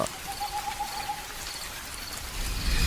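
Steady rain falls outside at night over an empty rural road and field, a soft continuous hiss with a faint hooting tone drifting above it.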